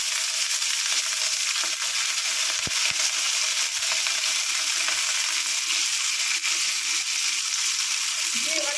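Curry leaves and green chilli frying in hot ghee give a loud, steady, close sizzle that never lets up, with a few sharp crackles and pops scattered through it.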